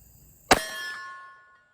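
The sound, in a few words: gunshot from Cimarron revolver hitting steel silhouette target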